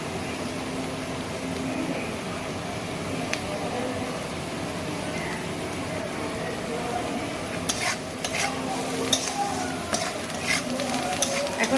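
Spices frying with salt and turmeric in a pan for tadka, a steady sizzle under stirring throughout, with a few sharper scrapes and clinks toward the end; faint voices in the background.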